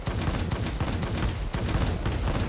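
Rapid, loud machine-gun fire from a Messerschmitt fighter strafing ground targets in World of Warplanes, a close, continuous rattle of evenly spaced shots with brief dips in between bursts.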